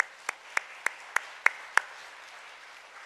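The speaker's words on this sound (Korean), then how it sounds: "박수로 환영해 주시기 바랍니다." A small church congregation claps to welcome newly registered members at a Sunday service, six sharp, evenly spaced claps at first, then fading under a voice that speaks over them.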